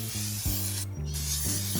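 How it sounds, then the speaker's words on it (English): A close, steady hiss from an aerosol can of Easy-Off oven cleaner sprayed on a Weber Q grill, with a short break partway, over low background music. "Now I'm going to spray it with some Easy Off oven cleaner"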